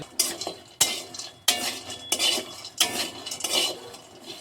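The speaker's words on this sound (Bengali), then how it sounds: "এটা কতক্ষণ ভাজতে হবে এটা অনেকক্ষণ টাইম লাগবে ভাজতে" Whole spices dry-fried in a pan while being stirred with a metal spoon for a homemade fish masala: close scraping sweeps and clinks against the pan at a steady rhythm, with faint sizzle between strokes.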